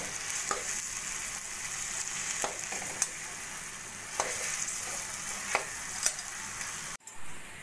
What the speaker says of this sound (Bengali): এবার দিয়ে দেবো আমি সিদ্ধ করা দুটো আলু। এভাবে খুন্তির সাহায্যে কেটে নেব।